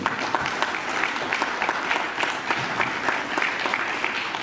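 Listeners at a Metrobus event in Johannesburg give a round of applause for the bus drivers, with sustained, crisp clapping from a sizable group and individual claps popping out of an even roar.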